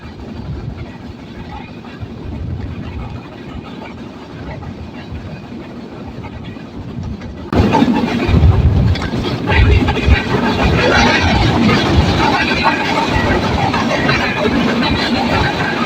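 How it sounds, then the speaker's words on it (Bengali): Dhumketu Express train running on rails from Dhaka toward Ullapara, heard from inside a carriage: a steady rumbling roll that turns suddenly louder and rougher halfway, with rattling clatter continuing to the end. "আমাদের ট্রেনটি বর্তমানে মৌচাক স্টেশনে দিয়ে ক্রস করে চলে যাচ্ছে।"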